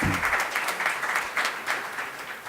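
An audience at an education event in a hall gives steady, dense applause, many hands clapping close and loud throughout without a break.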